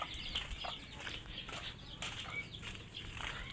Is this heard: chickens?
yes